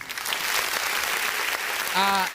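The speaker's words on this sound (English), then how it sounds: "We can clap for them." An audience claps steadily and fairly loudly at an alumni launch event at a polytechnic, a continuous wash of applause that fades at the end, with a brief voice near the close.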